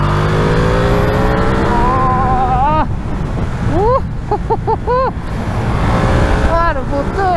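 A Ducati Streetfighter V2 motorcycle engine rises through a few quick, sharp revs over a loud rushing background, with a voice talking at times.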